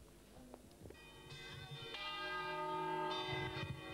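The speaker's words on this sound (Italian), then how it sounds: "faremo suonare le campane di Mocchie. Campane a festa." The church bells of Mocchie in Condove ring a festive peal, heard from some distance. Overlapping tones build up and continue steadily, with faint background noise beneath.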